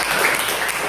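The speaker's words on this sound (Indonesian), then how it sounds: "Tepuk tangan untuk Nurul dan Ali" A classroom of students claps for a classmate, a brief burst of dense, steady applause close by.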